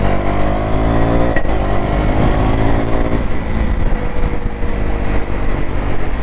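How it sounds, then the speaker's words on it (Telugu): A motorcycle fitted with an Akrapovic exhaust accelerates at night, with quick shifter upshifts breaking up its loud, close engine roar as the revs rise and drop. "క్విక్ షిఫ్టర్స్ టాప్ టాప్ మన పడుతున్నాయి"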